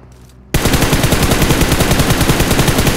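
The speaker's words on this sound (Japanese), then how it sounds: "右から銃声ですね。" A sudden burst of rapid automatic gunfire in PUBG Mobile starts after a brief quiet moment and continues loudly and evenly, a fast rattling stream of shots.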